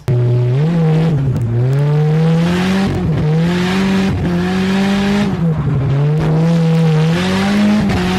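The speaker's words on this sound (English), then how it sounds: "It was a big accomplishment for me to actually be able to wall tap the Turbo Coupe." A Turbo Coupe race car holds a steady, loud engine drone while drifting, its pitch dipping and climbing again several times as it taps the wall. The engine runs throughout with no voices.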